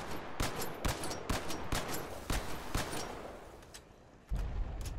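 Rapid automatic gunfire from a weapon in Halo Online, a quick even string of about a dozen sharp shots that tapers off, then a heavier burst at the end, with no talk.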